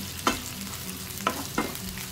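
Onion pieces fry in oil in a pan with a steady, fairly quiet sizzle, and three short stirring scrapes cut through it without any talk.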